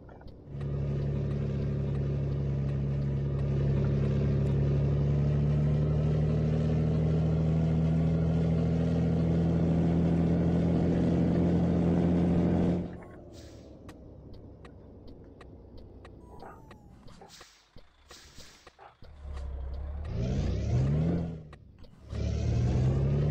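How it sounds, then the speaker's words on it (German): A Daimler Freightliner Inspiration Truck engine in Euro Truck Simulator drones loudly and steadily with a rising hum for about thirteen seconds, then drops away to quieter, uneven engine rumble with brief revving surges. "Vielleicht teste ich die Motoren noch mal durch."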